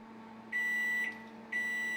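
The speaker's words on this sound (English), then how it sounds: "there goes the timer" A kitchen timer goes off while a key lime pie crust bakes: two loud, steady electronic beeps, the first about half a second long and the second starting a second later, over a quiet room hum.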